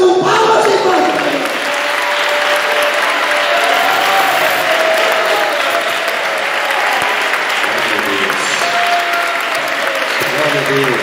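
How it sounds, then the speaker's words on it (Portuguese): A church congregation applauds loudly and continuously to welcome the pastor, a dense, even wall of clapping with crowd voices mixed in, lasting the whole stretch without a break. "Receba o pastor Milton Neves com palmas e glória."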